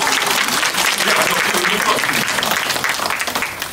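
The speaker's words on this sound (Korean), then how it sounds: "우리 아내를 위해서 한 박수 한번 해줄 필요가 있어요." Loud, sustained applause from a large church congregation during a worship service, dense clapping that carries on throughout and eases slightly toward the end.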